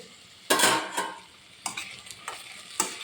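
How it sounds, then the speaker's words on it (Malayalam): A spoon stirs capsicum frying in a pan in a few separate strokes, each scrape bringing a bright burst of sizzle, with quieter frying crackle between the strokes. "ക്യാപ്സിക്കം ഇട്ടതിന് ശേഷം ഞാൻ ഒരു പ്രാവശ്യം ഇങ്ങനെ ഇളക്കി കൊടുക്കുന്നു"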